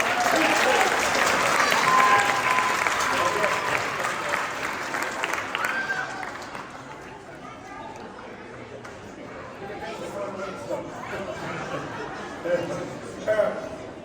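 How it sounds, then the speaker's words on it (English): An audience at a live magic-versus-science stage show claps loudly, the applause strongest at first and then thinning into scattered claps, chatter and a few chuckles. "Round of applause for the elephant."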